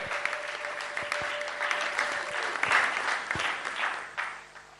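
Audience applause for a poet at a Ghanaian news event, a steady wash of clapping from a crowd that holds for several seconds and then tapers off near the end.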